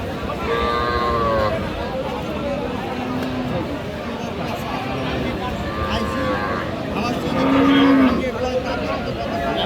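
Cattle at a village livestock market, Sahiwal bulls and calves among them, low drawn-out moos rising several times over a steady crowd murmur, with people talking nearby.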